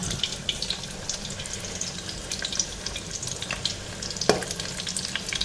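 Small balls of goat fat fritters with a little onion frying in hot oil, a steady broadband sizzle with faint stirring clicks and one sharp knock near the end, close and moderately quiet.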